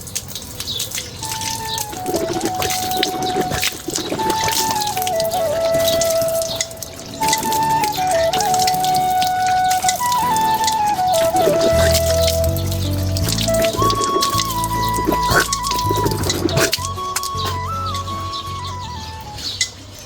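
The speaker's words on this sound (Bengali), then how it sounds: "মুখ ধুয়ে ফেলছি" Water splashes and drips as someone washes their face with handfuls of water, the splashing steady under continuous background music with occasional bird chirps.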